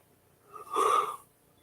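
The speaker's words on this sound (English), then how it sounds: "Yawning at 10:30 at night." A single close, breathy yawn swells and fades over about a second in a quiet late-night room, followed by a brief soft click.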